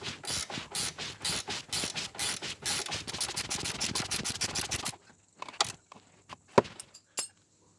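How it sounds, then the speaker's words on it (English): Ratchet spanner clicking rapidly while tightening a tie rod end nut on a Ford Focus, a close, steady run of sharp clicks for about five seconds, followed by a few scattered metallic taps and clinks. "you can put an Allen key in there and ratchet spanner"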